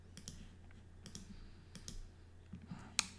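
Calculator keys being pressed in a few quick, faint clicks scattered over a quiet background, with one sharper tap near the end.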